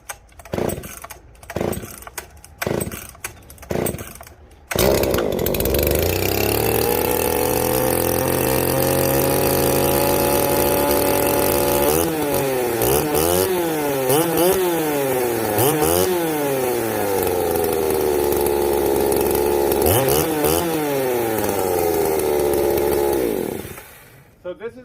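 A Jonsered 2055 chainsaw with an opened-up muffler, 22-inch bar and slow-cutting chain sputters through a few starting pulls, then roars close by, revving and bogging in repeated rising and falling waves as it cuts rotten pine before dropping back.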